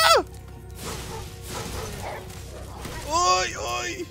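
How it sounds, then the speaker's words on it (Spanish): Mutant dogs in the Spyro video game give a pair of short, yelping barks near the end, amid game effects with a voice talking underneath. "Pinches perros mutantes!"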